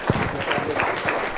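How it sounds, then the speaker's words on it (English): A church congregation claps during a Sunday worship service, a warm round of applause with dense overlapping claps, fairly close and sustained throughout. "Another round of applause for that powerful teaching from Brother Wilkie."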